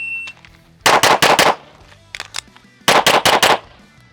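Laugo Alien pistol fired at a shooting range: a close, loud string of four rapid shots, a quieter pair of pops, then another quick burst of five sharp shots.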